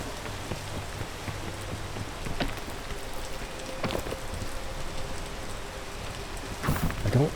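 Steady rain hisses across the soundscape of the climbing game PEAK, a dense, even wash with a few faint drips and one louder patter near the end, with no one talking.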